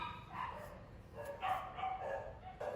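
Several dogs bark in short bursts, faint and somewhat distant, over a quiet background.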